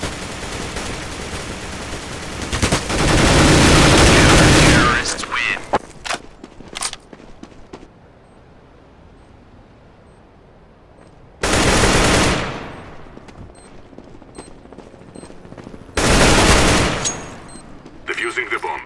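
Video game gunfire in a bomb-defusal shooter comes in three loud automatic bursts of several seconds each, spaced by quieter gaps with scattered single shots and footsteps.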